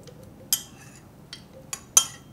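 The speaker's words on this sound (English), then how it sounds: "We start with half of an avocado that's ripe and sliced. I'll be adding that to the blender container." Sliced pieces of a ripe avocado half drop into a blender container: a few light clinks and soft knocks at near range, with one stronger knock near the end, over a quiet background.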